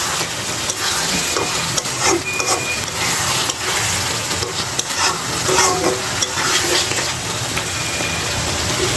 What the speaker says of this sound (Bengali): এখন এর মধ্যে আমি ডিমগুলো দিয়ে দিব